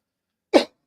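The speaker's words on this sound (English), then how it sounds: "I have the same exact cough my son has" A single short, sharp cough bursts out close and loud from a person with a cold, surrounded by silence.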